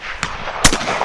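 A shotgun fires at a clay target on a shooting range, two sharp loud bangs close together within about a second, with no talk.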